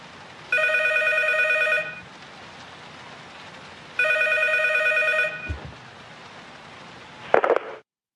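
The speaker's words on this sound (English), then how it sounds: "he got a phone call from Konami HQ in Japan." Telephone ringing for an incoming call, two long, loud electronic ring bursts separated by a pause of about two seconds, close and alone, ending in a brief clatter.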